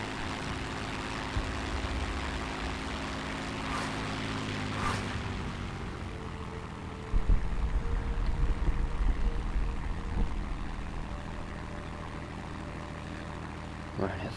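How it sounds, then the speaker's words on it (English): Messerschmitt BF-109 fighter plane's engine droning steadily in flight in World of Warplanes, a continuous broadband propeller roar that swells slightly partway through, with no speech over it. "I love the BF-109, such a good airplane."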